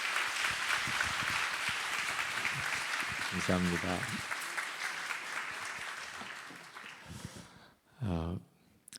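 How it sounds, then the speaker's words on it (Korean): A church congregation applauds a visiting pastor with a continuous rush of clapping that gradually tapers off, while a voice speaks briefly over it and again once it dies down. "우리 우렁찬 박수로 같이 함께 하겠습니다"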